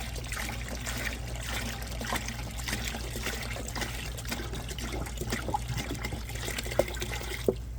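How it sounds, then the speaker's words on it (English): A gallon of water pours steadily into a pot holding kosher salt, brown sugar and pink curing salt for a pork pastrami brine, a continuous close splashing trickle with a couple of sharp clinks near the end. "Then we're going to add a gallon of water to this"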